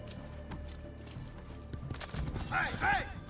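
In Assassin's Creed II, a horse's hooves clatter along under game ambience, then two sharp neighs ring out close together near the end. There is speech faintly in the mix.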